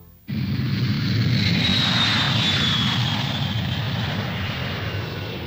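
An airplane passes overhead, its engine roar coming in suddenly and holding steady and loud, with a faint high whine sliding downward as it goes by.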